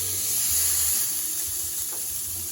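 Ribeye steak sizzling loudly on a Ninja Foodi XL Pro grill, a close, steady bright hiss of fat and juices that holds level throughout, with no voice over it.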